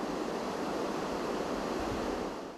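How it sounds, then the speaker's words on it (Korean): Steady, even hiss of broadband white noise from library ceiling speakers, like rushing air or distant surf, constant and unbroken before fading slightly at the end. "그 비밀은 바로 도서관 천장마다 설치된 백색 소음 스피커였는데요"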